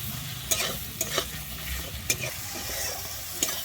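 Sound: frying and stirring tomatoes with turmeric in a pan

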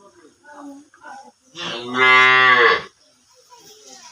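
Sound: cow mooing

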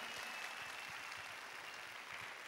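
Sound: congregation applauding

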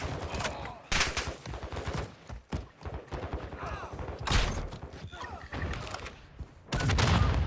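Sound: gunfire in the video game Call of Duty DMZ

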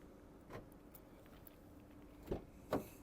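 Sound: car central locking clicking

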